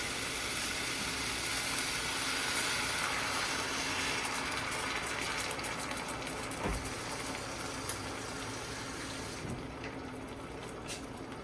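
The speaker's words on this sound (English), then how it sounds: "let me get some water" Water from a tap runs steadily into a container, a constant close hissing rush that fills the whole stretch with no talking over it.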